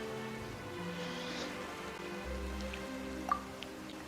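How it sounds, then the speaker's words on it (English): Rain falls in the Genshin Impact video game, a soft steady patter of drops under quiet game music with a few brighter drips, fairly faint and with no talk. "Why is it raining all of a sudden?"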